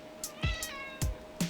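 A house cat said to have feline AIDS meows several times in short, close, clear calls separated by brief pauses, with no talking.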